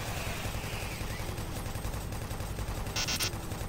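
Gunfire in Doom 3, a dense, continuous stream of rapid shots with a heavy low-end thump and steady loudness throughout, plus a brief bright mechanical burst near the end, with no voices over it.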